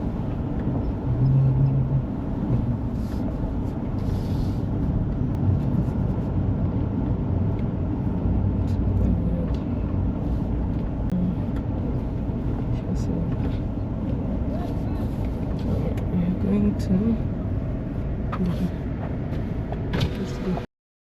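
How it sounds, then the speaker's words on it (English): An overland car drives on a gravel road in Namibia: a loud, constant low rumble of engine and tires with road roar that holds steady throughout. "We're back on the road and the tires have cooled off"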